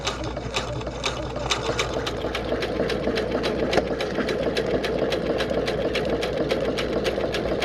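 A sewing machine stitches through basting tape and foam in a fast, steady clatter of needle strokes, loud and close with a low motor hum underneath and nothing else competing.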